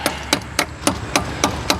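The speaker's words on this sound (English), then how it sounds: "A professional hammer. It's amazing." A hammer strikes metal in even, rapid blows, seven sharp close hits in under two seconds, while a 1962 Corvair is being reassembled.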